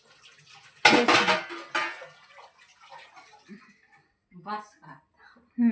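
Pots and dishes handled in a home kitchen, a loud clatter of metal vessels early on, then a few lighter knocks while people talk.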